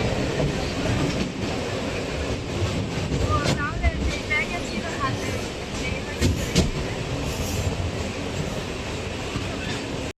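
A Sealdah–Diamond Harbour local train pulls into Basuldanga railway station, rumbling and clattering steadily over the rails with brief wheel squeals, while voices murmur faintly in the carriage.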